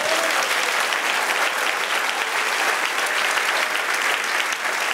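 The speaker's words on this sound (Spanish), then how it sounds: "Dale un aplauso al Señor." Steady, loud applause from a church congregation fills the whole stretch, continuous clapping without pause.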